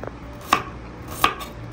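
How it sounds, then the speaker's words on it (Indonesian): Knife chopping onions on a board in a home kitchen, two distinct sharp chops roughly three-quarters of a second apart, close and clear with no talking. "Potongkan bawangnya semua"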